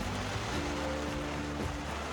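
Rain falls on a sailboat sheltered under a canopy on Sweden's west coast, a steady, dense hiss of drops with a low, constant hum beneath it and no voices.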